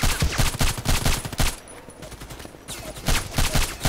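Rapid bursts of gunfire in a shooter video game crack loudly in quick volleys, a brief quieter lull breaking the sequence before the shots resume, close and dense with no talking.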